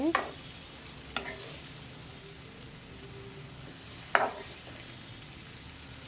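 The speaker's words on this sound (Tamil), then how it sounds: "இது கூடவே ஒரு பெரிய சைஸ் தக்காளி கட் பண்ணி சேர்த்துக்கோங்க சேர்த்து நல்லா வதக்கிக்கலாம்" Onion and tomato sauté in a pan for brinjal and drumstick kara kuzhambu, a quiet constant sizzle broken by a few sharp scrapes of a stirring spoon; no voices.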